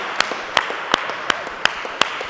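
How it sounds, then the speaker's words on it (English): A small sports team claps together at a pre-season practice, about seven sharp, loud claps in a steady rhythm with faint softer claps between them, and no talk. "clap it up for yourselves. Clap it up."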